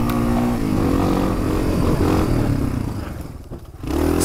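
A motorcycle engine revs hard and loud with clattering as it lifts into a wheelie on a ride in Idaho. It dips briefly near the end, then picks back up, close and continuous, with no talking.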